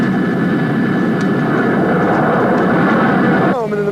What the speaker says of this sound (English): your jet takes off, launching you into virtual airspace